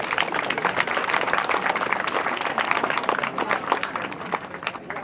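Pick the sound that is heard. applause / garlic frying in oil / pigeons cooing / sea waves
applause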